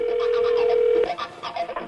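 A steady telephone dial tone holds alone for about a second, then cuts off abruptly, followed by faint muffled background sounds.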